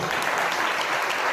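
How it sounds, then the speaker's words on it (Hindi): A church congregation claps for a brother during a Hindi sermon, a short dense burst of applause from many hands, even and sustained throughout. "ताली बजाइए भाई के लिए।"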